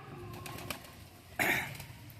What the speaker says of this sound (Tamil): வேறு நாட்டு புறாக்களும் கொஞ்சம் புறாக்கள் விற்பனை இருக்குது